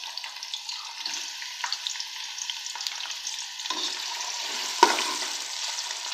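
Onions frying in hot oil inside a pressure cooker, a steady close sizzle with occasional stirring scrapes and a sharper clink near the end.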